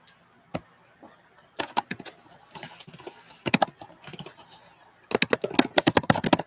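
Computer keyboard keys clatter in irregular bursts of quick taps, sparse at first and then a dense, fast run near the end, close and moderately loud with no one talking.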